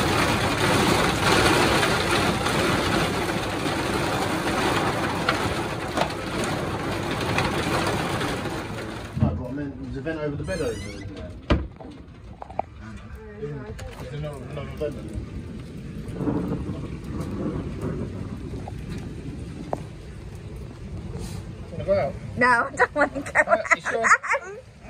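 A thunderstorm rolls over a holiday park at Caister-on-Sea, starting with a dense, loud roar of rain and rumble, then easing to quieter background noise as people talk nearby.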